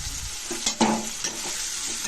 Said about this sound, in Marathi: त्यामध्ये आपण कोथिंबीर आणि टोमॅटो टाकणार आहोत आणि व्यवस्थित फ्राय करून घेणार आहोत